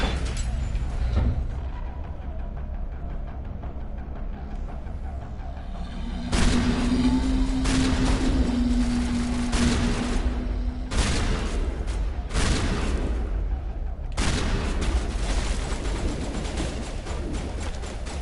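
Gunfire and grenade blasts in the Mass Effect game crackle through a firefight, with repeated bursts of loud, close shots and booming impacts over a low rumbling background.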